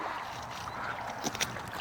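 Ducks quack faintly in the distance beside a swamp, a few brief calls rising near the end over a quiet outdoor background.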